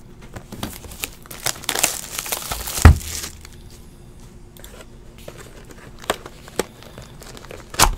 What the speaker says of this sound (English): Let's go ahead and rip this open.